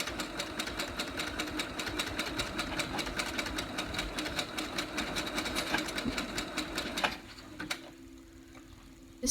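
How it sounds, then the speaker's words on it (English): A sewing machine runs a zigzag stitch through fabric for a ruched crop top, a steady rapid ticking hum close by that carries on for several seconds before stopping, followed by quieter handling noise. "I'm doing the zigzag stitch, which is number 4 for me"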